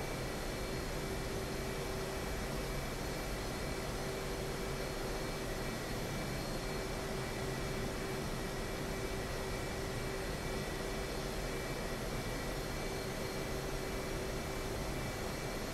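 A steady, unbroken roar of a simulated aircraft engine in the DCS flight simulator, throttled back while the plane rolls toward a runway; a continuous broadband whoosh with a faint steady whine, evenly loud throughout with no voices.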